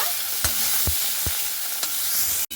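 Potato and pointed gourd stir-frying in hot oil, a steady bright sizzle with a few distinct scrapes of the spatula against the pan, close and alone without talk.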